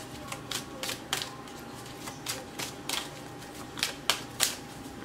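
Tarot cards are shuffled in a series of quick, crisp riffles and snaps, irregularly spaced and close by, over a quiet background.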